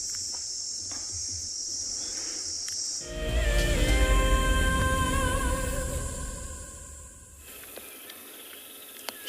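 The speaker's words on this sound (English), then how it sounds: "those cicadas humming their tune" Cicadas in the African bush at sunrise give a steady, shrill, high-pitched drone that opens and closes the scene, briefly overtaken in the middle by a louder, rougher burst of nearby sound.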